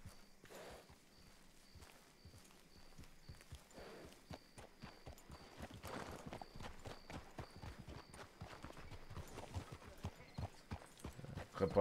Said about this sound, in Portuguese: leva aquele cavalo